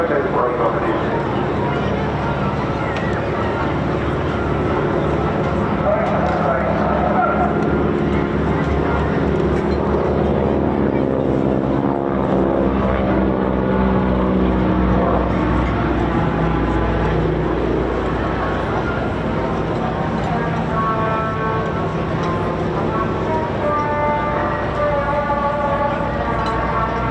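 Vintage 1930s training aircraft flying past at a seaside airshow, a droning propeller engine that swells and shifts in pitch as it passes, heard under ongoing commentary from an announcer.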